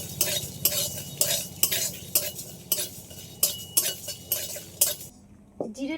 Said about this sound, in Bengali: এগুলো সব একসাথে একটু হালকা করে ভেজে নেব এর মধ্যে কিছুটা জিরে দিয়ে দিচ্ছি একসাথে আবার একটু ভেজে দেবো